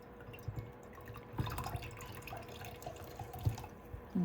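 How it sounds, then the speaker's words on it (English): Mulberry paper dunked and worked in a container of water, giving soft drips and small splashes in a quiet indoor setting. "Let's get dunked right into the water."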